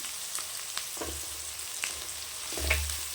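Ginger garlic paste, pounded rather than ground, frying in a pan for mushroom gravy, with a faint steady sizzle, a few light utensil taps and a couple of brief louder hisses.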